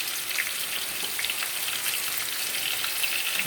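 Steak frying in a pan on a home stove, a steady close crackling sizzle with dense spattering pops running evenly throughout, no voices.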